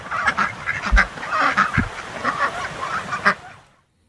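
Ducks on a permaculture homestead let out a run of loud, close honking quacks in irregular bursts, with a few sharper calls standing out before the sound cuts off near the end.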